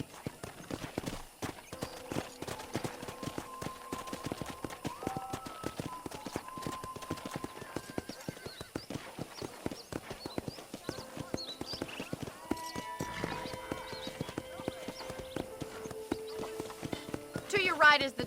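Horse hooves clip-clop steadily at a riding pace in Red Dead Redemption, close and continuous for the whole stretch with a brief whinny, while a voice talks over the steps and background music plays.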